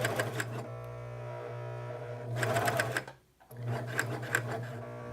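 A sewing machine stitches the hem of a relaxed raglan top along parallel stitch lines, running in two steady bursts with a short pause between them, close and clear with no talking.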